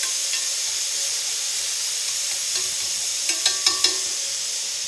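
Onions sizzle and fry steadily in a pan, a continuous bright hiss, with a few sharp clinks and scrapes of stirring near the end; no one speaks.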